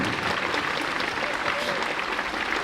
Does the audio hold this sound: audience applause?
yes